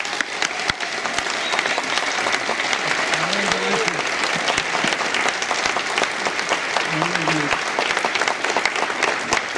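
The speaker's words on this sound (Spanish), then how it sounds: "Vamos a recibir a Ricardo González con un aplauso." Sustained applause fills a conference hall as an audience welcomes a speaker at an enigmas and mysteries congress in Capilla del Monte, dense and steady with a few sharper claps standing out.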